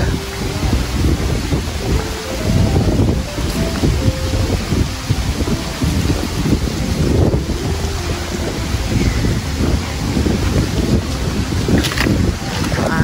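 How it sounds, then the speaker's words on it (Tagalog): Heavy wind buffets the microphone continuously on a farm with coconut and banana trees in San Narciso, Philippines, a loud low rumbling roar with gusty surges throughout and no clear voices. "Medyo mahangin po ngayong araw. So, pasensya na po kung medyo maingay."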